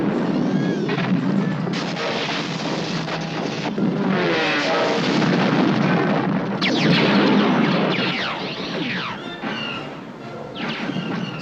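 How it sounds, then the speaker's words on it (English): Loud, continuous rumbling blasts and crashes from film explosion sound effects roll over one another, a dense layered wall of explosive booms with no pauses. "Explosions were also enhanced by animation and sound effects."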